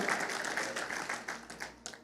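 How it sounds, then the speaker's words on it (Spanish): Scattered applause from a small church congregation, uneven and fairly faint, tapering off toward the end. "Dale un aplauso al Señor"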